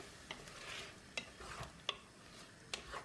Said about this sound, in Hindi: अब हम इसको अच्छे से इस तरह चमचे से मिक्स कर लेंगे, अच्छे से हिला लेंगे इसको।